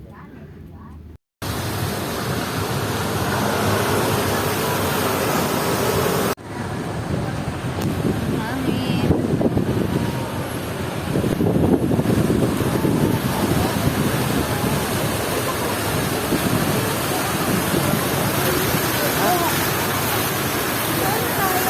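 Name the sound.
evening wind while walking in BGC, Taguig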